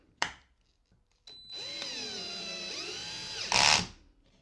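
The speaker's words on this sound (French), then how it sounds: "je vais commencer à visser les planches de bois en faisant exprès de laisser un grand jour entre les deux" Cordless screwdriver drill driving a screw into wooden boards, a sharp tap, then a whirring motor that rises in pitch for a couple of seconds before ending in a loud, rough burst as the screw seats, close up.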